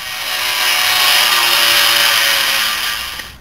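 An angle grinder cuts through old U-bolts on a vehicle's leaf spring mount, a loud, steady high-pitched whine with gritty metal-cutting noise sustained for about three seconds before spinning down.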